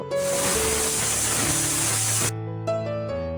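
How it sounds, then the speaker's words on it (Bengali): A pressure cooker boiling jackfruit vents steam in a loud, steady hiss for about two seconds, then cuts off sharply, leaving a faint tonal hum. "প্রেসার কুকারে ঢাকা লাগিয়ে চার থেকে পাঁচটা সিটি দিয়ে নেব"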